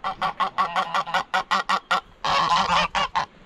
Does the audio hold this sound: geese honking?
yes